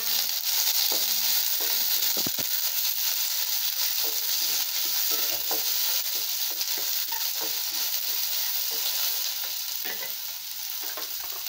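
Onion, garlic and green chili fry in hot oil while being stirred, giving a loud, continuous crackling sizzle that stays even for the whole stretch, with no voices.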